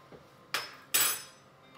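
A spoon fetched in a kitchen while making meatloaf: a faint tap followed by two sharp metallic clinks of cutlery against dishes, close and brief, with no talking.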